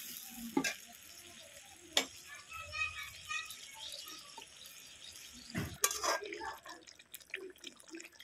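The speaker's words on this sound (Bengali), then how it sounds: "ভালো করে এবারে কষিয়ে নেব কপিটাকে।" Cauliflower florets being sautéed in a pan for a vegetarian korma, with soft sizzling, occasional sharp utensil knocks against the pan and quiet stirring; the sound is faint and close.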